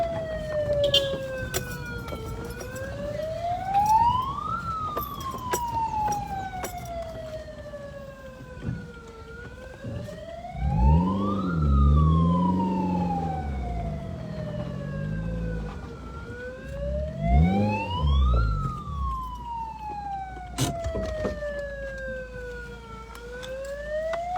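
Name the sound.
siren escorting cyclists on a fun ride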